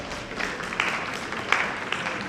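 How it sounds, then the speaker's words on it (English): An audience at a business event claps for a moderator walking onto the stage, producing a steady, moderately loud wash of applause with a few sharper claps standing out. "Let's clap for her as she comes to the stage."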